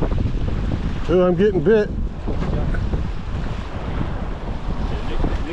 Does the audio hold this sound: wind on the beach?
yes